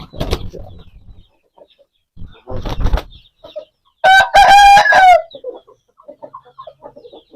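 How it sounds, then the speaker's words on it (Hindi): A red Aseel rooster gives one loud, close crow midway, preceded by short clucks and rustling and followed by scattered softer clucks in a quiet farmyard setting. "लाल मुर्गा खड़ा है जी माशाल्लाह। बहुत ही अच्छा मुर्गा है।"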